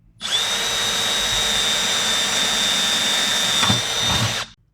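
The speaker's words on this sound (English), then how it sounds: "we're going to take our drill. We're going to drill our pilot hole." A power drill drills a pilot hole in a 1965 Mustang's panel, running steadily with a high whine for several seconds, close and loud, with a couple of knocks near the end before it stops.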